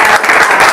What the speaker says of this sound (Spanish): me gustaría que recibiéramos con un fuerte aplauso